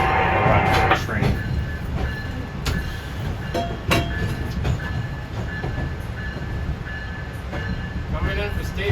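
MBTA commuter train #884 rolling on rails between Stoughton and Boston, a steady loud interior rumble with rail clicks and sharp metallic squeals, voices talking over it throughout.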